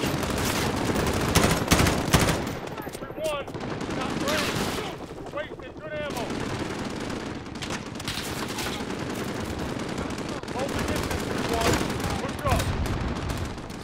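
Loud, dense gunfire in Call of Duty Modern Warfare during a friendly-fire incident, with rapid bursts and heavy impacts that surge and fade, mixed with game effects and a voice talking.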